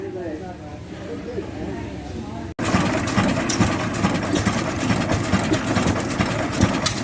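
An antique engine with a large flywheel runs at a show, a steady loud mechanical chugging that cuts in abruptly after a quieter stretch of background murmur and voices.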